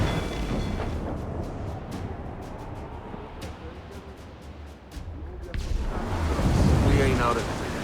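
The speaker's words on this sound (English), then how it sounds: "Mortars, Kenway! Fire!" Ship mortar volleys in the pirate naval game Assassin's Creed Black Flag, heavy booming blasts with sharp cracks repeating over about eight seconds amid rumbling battle noise, swelling louder toward the end, with shouted voices mixed in.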